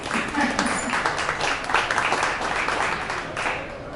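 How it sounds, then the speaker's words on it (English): A warm round of audience applause for Nikki at a cancer wellness talk, moderate and steady clapping throughout the short stretch. "why don't we just give Nikki a warm round of applause to kick things off"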